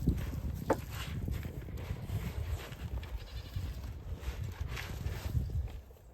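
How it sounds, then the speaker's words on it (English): Billy goats in a barn give brief, scattered bleats over a rustling, shuffling background, fairly close and moderately loud. "Our little billy goats."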